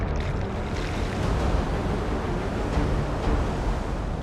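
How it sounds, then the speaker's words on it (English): A powerful ocean wave crashes down on a surfer. The surf keeps up a steady, dense roar mixed with wind rush. "Attempting to duck under the lip of the wave, Francisco is taken down"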